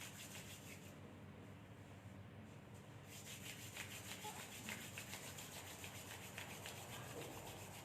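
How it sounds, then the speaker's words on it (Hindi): Palms rub briskly together in a fast, steady back-and-forth swish that starts softly and grows louder and denser, close to the microphone with no talking. "हाथों को रब करेंगे।"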